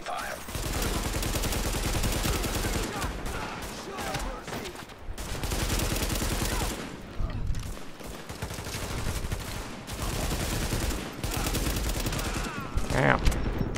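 Sustained gunfire from the video game The Division, with dense bursts of automatic shots and volleys running almost continuously and loudly, with brief lulls, while a voice speaks intermittently over the shooting.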